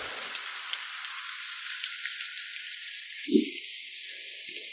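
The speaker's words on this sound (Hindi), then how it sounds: "बारिश ज्यादा है।" Heavy rain falls as a steady hiss with water dripping from a roof in a village, a continuous wash with one louder drip or knock and a few softer ones.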